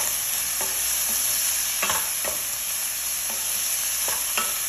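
Liver fries in a pan with coriander leaves under a steady close sizzle, while a utensil stirs and scrapes against the pan in several distinct strokes.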